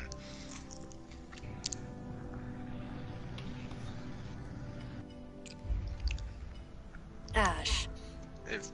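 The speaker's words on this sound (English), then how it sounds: "I just hear you chewing in the freaking live stream." Someone chews food close to the mic with soft, moist munching, while voices talk throughout and a couple of louder bites or crunches come near the end.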